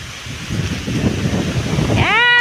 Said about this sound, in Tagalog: bilis po ng hangin